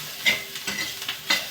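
Bitter gourd bhaji stirred in a pan just after lemon juice is squeezed in, giving a soft sizzle with four quick spatula scrapes in close succession, near and with no voices.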